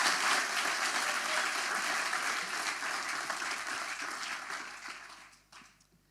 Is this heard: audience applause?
yes